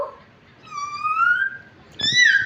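A cat meows twice close by, a rising-falling drawn-out call followed by a second louder, higher meow, with faint household background.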